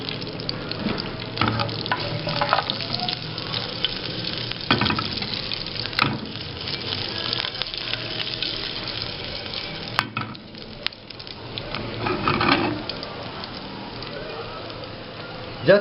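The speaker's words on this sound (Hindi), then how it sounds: "कड़ी पत्ते और हरी मिर्च बारीक कटी हुई ये ऐड कर दूंगा और इनको थोड़ा सा फ्राई करना है।" Mustard seeds, curry leaves and chopped green chillies frying in a little oil for a Kutchi-style basan dhokla, a steady crackling sizzle running throughout with occasional stirring clatter and brief bursts of spluttering, fairly close.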